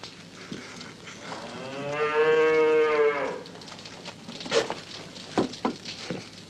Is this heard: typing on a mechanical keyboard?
no